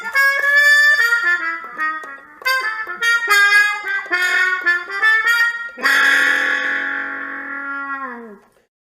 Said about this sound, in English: the player is using special tongue effects and something called a mute